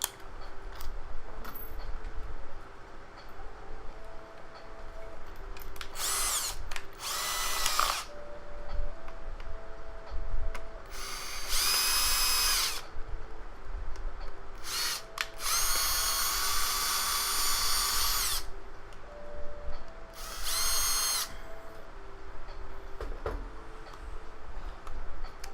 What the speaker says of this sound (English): I mean the drill.